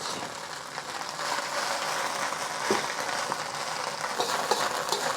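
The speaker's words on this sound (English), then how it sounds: "I'm going to add our noodles. We just want to fry it up to give it some flavor." Noodles fry in neutral cooking oil in a close, continuous, bright sizzle with crackling spits and the occasional scrape of stirring, with no voices.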